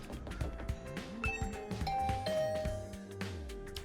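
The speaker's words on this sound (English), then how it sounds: "I rang the doorbell to Tsubasa's room." A doorbell chime at a dorm room door in the video game The Hundred Line, ringing over game background music with layered melodic tones and no talking.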